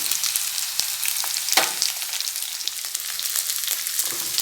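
Okra sautéing on a low flame in a pan with asafoetida sprinkled in, giving a steady, close sizzle with a few soft stirring scrapes and no voices.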